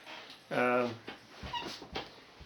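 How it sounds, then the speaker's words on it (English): A dog whimpers close by in a long, high whine with trembling harmonics, then lets out a few shorter, softer whines and yips, with faint background sounds between them. "Oh, and I got a dog that just jumped up here."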